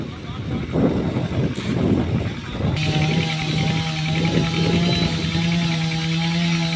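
A farm tractor's engine at a site where a yang na tree over 100 years old is being felled. It sets in partway through as a steady droning hum under outdoor noise and people talking.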